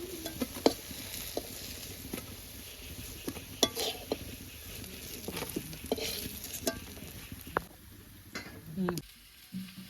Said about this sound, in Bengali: একইভাবে সব পকোড়াগুলো একইভাবে ভেজে নেব